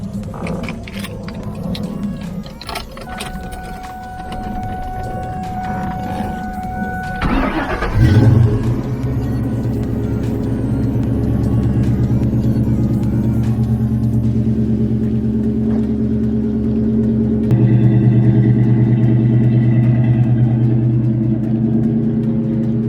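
A 2004 Ford Mustang GT is cranked and started early in the morning, catching with a loud burst around the middle, then settling into a steady, close, rumbling idle that rises slightly near the end.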